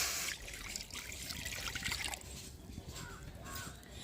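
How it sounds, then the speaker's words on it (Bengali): Water is poured into a kadai wok to start a momo chutney, a steady close trickle and splash running throughout. "কড়ার মধ্যে দিয়ে দেবো কিছুটা পরিমাণ জল"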